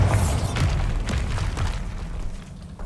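Booming explosive blasts from the Bombarda spell in the Hogwarts Legacy video game, a dense rumbling low-end burst with several sharp hits repeating over about three seconds, loud and continuous.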